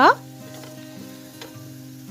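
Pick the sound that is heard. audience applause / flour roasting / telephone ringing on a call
flour roasting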